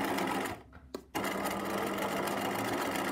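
A sewing machine stitches a fabric strip for rouleau loops, its fast, steady whirring running close and continuous apart from a short pause near the start.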